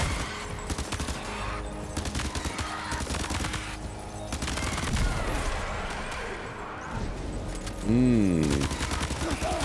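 Assault rifle fire in the video game Death Stranding 2: sustained, loud bursts of shots with clattering impacts, mixed with other game effects and a voice in the background.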